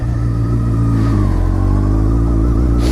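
A fuel-injected Triumph Speed Four motorcycle engine runs close by, a loud steady idle with a deep throbbing rumble and a slight rise in pitch.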